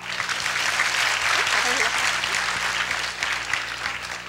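A lecture audience at a university applauds in thanks: steady, dense clapping fills the whole moment at an even, fairly loud level.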